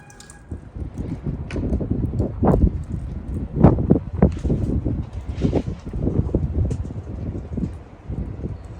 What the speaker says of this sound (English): the wind is just going with it